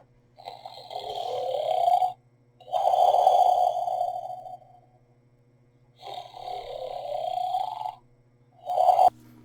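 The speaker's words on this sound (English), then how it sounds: "if you lay him down, he immediately starts snoring." A Crate Creatures Surprise toy monster makes snoring sounds in slow, repeated long breaths, each a droning rumble with a whistling edge, close and steady against quiet pauses.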